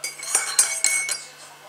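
A spoon clinks against the side of a cup of tea while it is being stirred, giving four or so sharp, close, ringing taps in a quick uneven rhythm with nobody talking.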